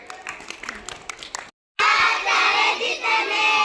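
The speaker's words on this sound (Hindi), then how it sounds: "सही है, तालियां।" Children clapping together in a school classroom during a maths number game, a burst of dense applause after a short gap, loud and close, following an earlier stretch of speech.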